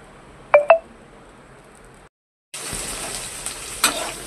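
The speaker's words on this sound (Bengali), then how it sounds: "কড়াইয়ে তেল, ভাজা হবে।" Fish coated in salt and turmeric frying in oil in a wok, a steady hiss of sizzling that starts abruptly after a couple of short electronic beeps and brief quiet.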